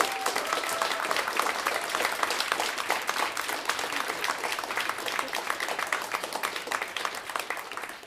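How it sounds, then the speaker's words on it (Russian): An audience claps steadily after a live acoustic guitar concert song, with dense, sustained applause at moderate volume that tapers slightly toward the end. "it's still nice to have another applause"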